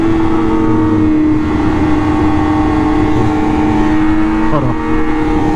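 2020 BMW S1000RR M sportbike racing at very high speed, a loud sustained high-pitched engine whine with steady wind roar, the tone briefly shifting near the end.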